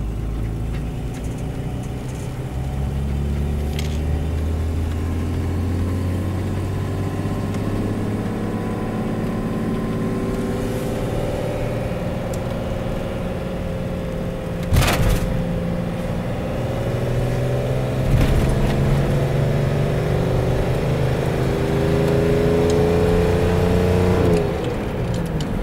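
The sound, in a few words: car engine idling and revving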